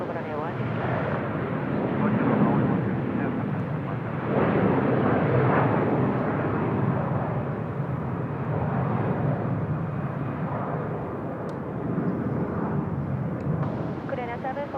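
A Garuda Airbus A330 airliner at Seoul Incheon Airport gives a steady, broad jet roar that holds through the whole stretch, with voices talking over it.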